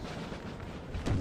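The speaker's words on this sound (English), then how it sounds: "you can see the death and destruction from artillery, from such concentrated artillery fire over here" Concentrated artillery fire in Napoleon: Total War, a dense continuous rumble of booming cannon shots with a heavier blast near the end.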